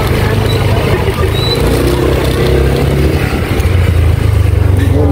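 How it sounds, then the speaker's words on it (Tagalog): Several motorcycles passing on a road in a steady stream, engines droning and revving nearby over constant road and wind noise, loud and continuous. "Parang karamihan mga nakamotor sila."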